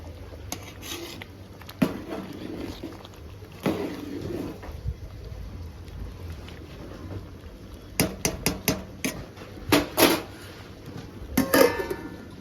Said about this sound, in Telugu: ఒకసారి బాగా కలిపుకోవాలి